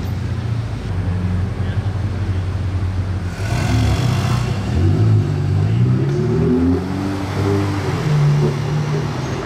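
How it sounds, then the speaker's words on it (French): A rare sports car passes on a street in Monaco, its engine revving and rising in pitch as it goes by close and loud, with people talking over it. "Et après la GTA grise, on en a une un peu plus pétante."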